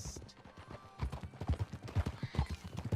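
Horse hooves clip-clop at a steady walking rhythm in the video game Red Dead Redemption 2, close and clear, with soft thuds of each step over a quiet ambient background.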